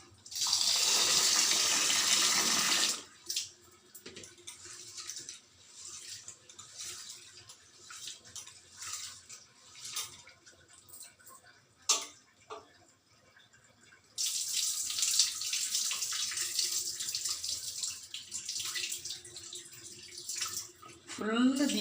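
Rava semolina being washed in a bowl for idli: loud running water from a tap at the start and again later, with quieter sloshing and swirling in between, while a person talks throughout.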